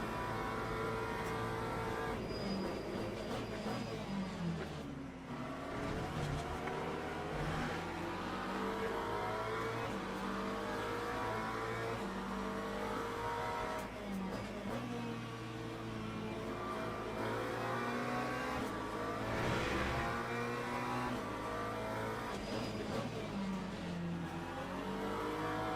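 A pack of race cars, including a Mustang and a McLaren, at the start of a race at Monza in Le Mans Ultimate: layered engines revving and droning together, rising and falling as cars jostle and pass, steady and dense throughout.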